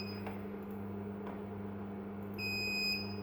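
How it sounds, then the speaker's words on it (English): Steady electronic buzzing hum with a high-pitched tonal alarm from a DVR motion-detection buzzer kicking in near the end, continuous and fairly close, no voices. "you can hear the buzzer going off because I've just hit that motion threshold."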